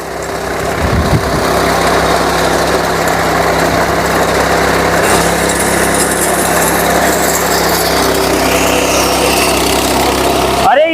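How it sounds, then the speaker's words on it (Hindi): A wheat reaper machine runs in first gear, a loud steady engine drone with a constant mechanical whir that holds unbroken for the whole stretch. "तो ये देखिए पहले गियर में चल रही है रिपर मशीन।"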